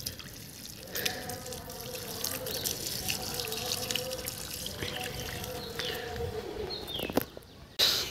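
Water runs steadily from a tap at a home, a continuous splashing stream with occasional drips and clatter, with no talk over it.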